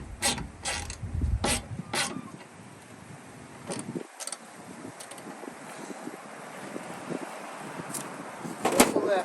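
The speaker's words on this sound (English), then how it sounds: "Personally, I prefer to use ratchets. That's what we're gonna do this time." A ratchet wrench turning bolts while a radiator is installed in a 2006 Dodge Sprinter, with bursts of sharp ratcheting clicks at the start and end over a gusty background hiss.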